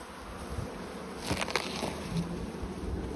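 Honey bees buzz steadily around an open beehive full of nectar and wet honey, a dense, continuous hum with a few louder passes close by and no talking.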